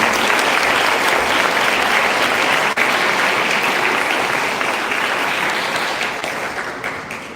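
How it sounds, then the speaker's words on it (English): A school audience applauds a valedictorian at a graduation-style ceremony, a dense, steady wash of clapping that runs loud throughout and tapers slightly toward the end. "Let's have one last round of applause for Valedictorian."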